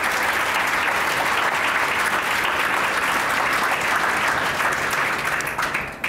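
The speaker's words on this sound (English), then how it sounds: "please do give our speakers, Firelei, Katharina, Komal, and Mark, a very warm round of applause" At an arts conversation event, an audience applauds the panel of artists and a collector with dense, sustained clapping that fills the room for about six seconds before fading at the end.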